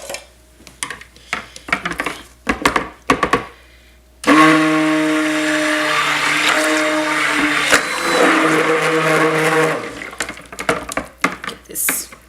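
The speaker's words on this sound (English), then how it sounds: "let me go ahead and get my stick blender here" A stick blender whirs loudly in bursts of several seconds while blending a batch of cold process soap, its motor tone steady over clatter and scraping of utensils in a pot before and after.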